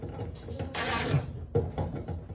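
Screws are driven in while an LG dryer part is reassembled: short close mechanical creaks and ratcheting turns in quick bursts, loud and near.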